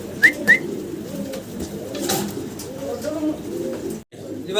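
Fancy pigeons coo in low, rhythmic, throaty rolls close by, with a couple of brief chirps and a continuous murmur of birds.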